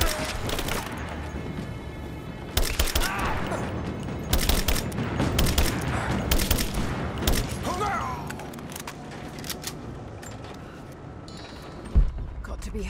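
Soldiers open fire in the video game Rise of the Tomb Raider, with dense, crackling volleys of shots and impacts that come and go over several seconds, mixed with shouted voices and a final loud shot.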